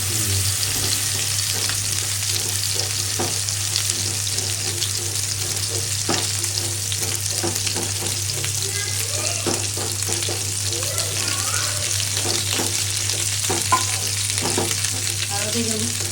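Chicken meat fries with chili powder in a pan, a loud, continuous sizzle with crackling bursts and occasional scraping as it is stirred, heard alone.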